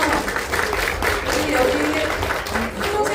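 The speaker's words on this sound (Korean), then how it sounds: "한번 큰 박수 부탁드리면서요." Dense audience applause at a New Year talk concert, steady clapping throughout mixed with crowd murmur and a voice speaking over it.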